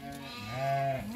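A young female goat, tethered and pregnant, gives a single drawn-out, wavering bleat up close and fairly loud.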